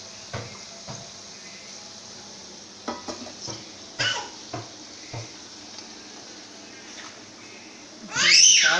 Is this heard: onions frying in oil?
yes